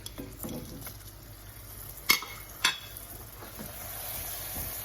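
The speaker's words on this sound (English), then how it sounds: "when you start adding these other ingredients, it's going to bubble up pretty violently" Butter dropped into hot caramel on the stove: two sharp clattering knocks, then a steadily rising hissing, bubbling roar, close and with no talk.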